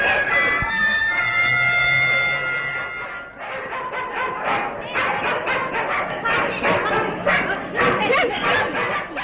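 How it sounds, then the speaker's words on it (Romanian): A pack of stray dogs in a neighbouring house in a city centre barks in repeated sharp bursts over the second half, after a stretch of tonal background noise, loud and fairly near. "Lătrăturile pe care le auziți provin dintr-o casă vecină cu câteva udăi ocupate de o haită sălbatică de câini murdari"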